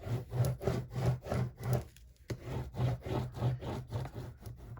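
Glued paper being burnished flat onto a four-signature junk journal cover, heard as a steady run of rhythmic rubbing strokes, about nine close, moderately loud passes with a brief pause midway and no talking.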